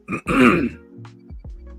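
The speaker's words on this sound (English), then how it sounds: "I just ate, so I'm clearing my throat a lot" A throat clearing up close, a short rough burst followed by a longer gravelly, throaty rumble, then a couple of quieter low grunts trailing off.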